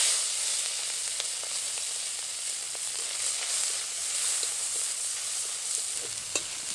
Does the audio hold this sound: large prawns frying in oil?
yes